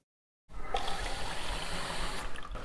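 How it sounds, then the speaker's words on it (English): Clean water gushing from a household tap on Bell Island, starting abruptly after a short silence and then pouring steadily and loudly close by. "many more residents can now have clean water straight from the tap"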